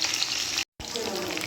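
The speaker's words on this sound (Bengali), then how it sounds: "চলুন এগুলো ভেজে নিই" Chicken pieces fry in hot oil in a wok, giving a loud, dense, crackling sizzle close up that cuts out for a moment, then resumes just as strongly.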